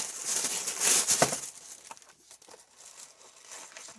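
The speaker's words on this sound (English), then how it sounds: "I'm sorry for the noise. That is really loud tissue." Loud crinkling of tissue paper, a dense burst of rustling in the first second and a half, then quieter intermittent crackles and rustles.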